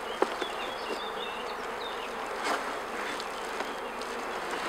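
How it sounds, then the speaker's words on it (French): Honey bees swarm in dense numbers over the frames of an opened hive during a queen replacement, a close, continuous buzzing drone with occasional individual bees whining past and faint clicks. "Là, il y a des abeilles dessus,"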